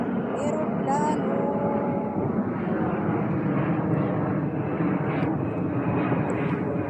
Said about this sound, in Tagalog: Ayan, may aeroplano ulit.